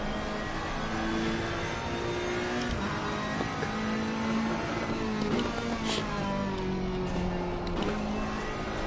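GT3 race car engines in Assetto Corsa Competizione, heard from the cockpit during a VR sprint race: a steady, loud drone with rising and falling revs as gears change, continuous throughout.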